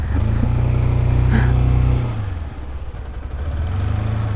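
Road traffic in Japan at midday: a car engine drones close by for about two seconds, then eases off as vehicles keep rumbling past at a steady level, with no talking.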